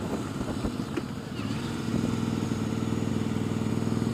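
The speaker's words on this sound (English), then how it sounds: "My God, this bike is bloody loud." A loud motorcycle engine runs close by, a rough, throbbing idle that settles into a steady, pulsing drone with faint clatter and no talking.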